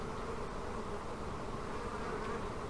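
A swarm of honey bees fills an old hive with a dense, continuous buzzing drone, close and steady throughout with no pauses.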